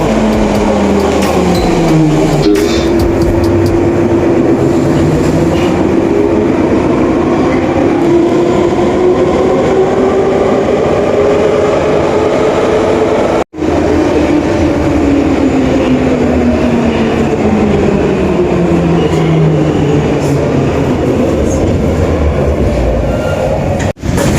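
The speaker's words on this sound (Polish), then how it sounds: "Wjeżdża pociąg metra w kierunku Młocin" A Warsaw metro train on line M1, bound for Młociny, rolls into an underground station. Its loud drive whine glides up and down in pitch over a constant rumble of wheels and track.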